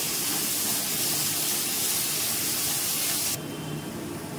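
Water poured onto hot turmeric and ginger masala in a pan sets off a loud, steady hiss of steam that runs close up for several seconds, then eases to a softer sizzle.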